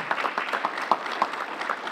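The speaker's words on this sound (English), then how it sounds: "Please a round of applause for our board members as well." A room of attendees at a chamber breakfast gives brief, moderate applause for the board members, a short burst of many hands clapping at medium distance.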